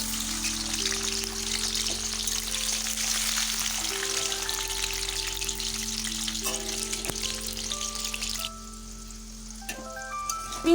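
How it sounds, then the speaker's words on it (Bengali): Vegetables frying one by one in oil in a wok give a steady, close sizzle throughout, thinning out toward the end, with a sustained background tone and no talking. "সমস্ত সবজিগুলো এক এক করে ভেজে নেব"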